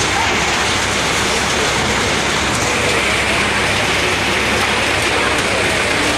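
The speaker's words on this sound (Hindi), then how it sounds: "हमारे यहाँ पे बहुत ज़्यादा काफ़ी तेज़ से बारिश हो रही है" Heavy rain pours down steadily, a loud, dense hiss of drops on surfaces lasting throughout with no pauses.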